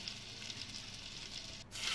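Olive oil hits a well-heated pan and sizzles with a soft, steady crackling hiss that swells slightly louder at the end, close by with no talk.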